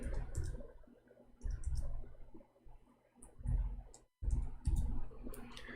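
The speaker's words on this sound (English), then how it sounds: "I'm typing in English again." Typing on a computer keyboard: bursts of irregular, close clicks and taps with brief pauses over a low room murmur.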